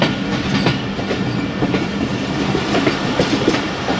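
The 39UP Jaffar Express passenger train runs on a single-line track out of Lahore, with a loud, steady rumble and rhythmic clickety-clack of wheels over rail joints, heard from on board or very close.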